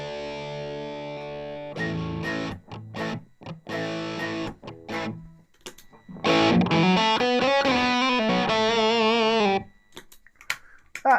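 An electric guitar played through a clean boost pedal into distortion rings out with sustained chords and a run of gritty, overdriven lead notes, loud and close, ending in a few short plucks.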